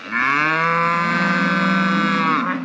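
A cow on a farm gives one long, loud, sustained moo lasting over two seconds, clear and close with no talking over it.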